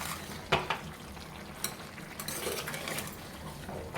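A spoon clatters and scrapes through tomatoes cooking with salt and chili in a pan, with several sharp knocks early on over a low, continuous sizzle.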